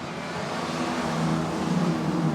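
A pack of historic racing cars drives around the circuit at Goodwood Revival in the St Mary's Trophy race, a steady buzzing engine drone rising slightly in pitch and loudness as the cars approach, with no voices.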